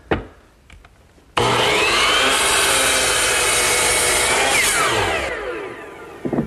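A miter saw trims the end of a wooden piece, spinning up loudly after a few quiet handling knocks, then cutting with a sustained high whine and winding down before a final clunk.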